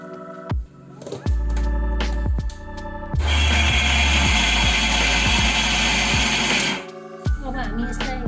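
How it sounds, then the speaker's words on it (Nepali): A mixer grinder whirs loudly as it grinds soaked soybeans with a little water, a steady high-pitched motor roar of about four seconds framed by short bursts, clicks and handling knocks before and after. "अब हामी यसलाई मिक्सरमा राखेर पिन्छौँ"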